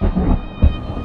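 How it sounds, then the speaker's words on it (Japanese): A loud rumbling thunder effect with rain-like hiss plays from a Winter Sonata 2 pachinko machine, swelling twice in a steady roar with no talk over it. "あ、雷。"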